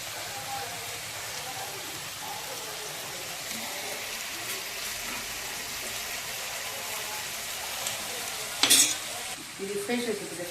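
Chicken sizzles softly in a pan while being stirred, a steady low frying hiss with faint scraping and a sharper clatter near the end.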